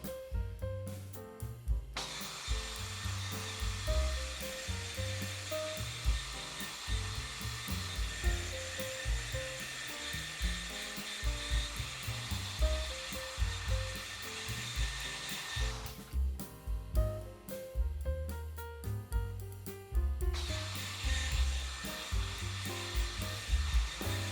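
An electric buffer polishes the painted cabinet of a 1955 Vendo 6 Case vertical Coca-Cola machine, a loud continuous whirring drone that rises and falls in pitch and pressure as it moves across the surface, with no talking.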